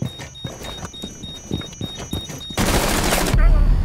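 Rapid bursts of gunfire rattle through a team deathmatch round of Rainbow Six Siege, in choppy repeated volleys, followed by a loud, dense blast of noise near the end, with a voice briefly present.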